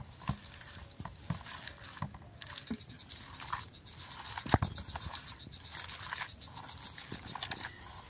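Wet dough being kneaded by hand with water for a spicy winter pitha made with coriander leaves, onion, chilli and ginger, giving soft squelching pats and slaps in an irregular rhythm, close and fairly quiet, with no talking.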